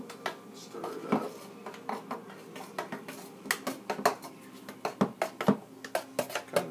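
A spoon clinks repeatedly against a pot or glass as freshly made deep red beet juice is stirred, a close, quick series of sharp metallic taps growing more regular toward the end.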